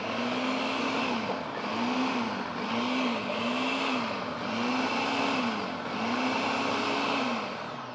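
Food processor blending a Caesar dressing with cheese: a loud, steady motor whir that dips and rises in regular pulses, close by, with no talk over it.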